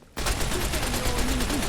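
Sustained submachine gun fire in Fallout: New Vegas starts abruptly after a brief quiet moment and continues as a dense, loud rattle of rapid shots for the rest of the clip, with no talk.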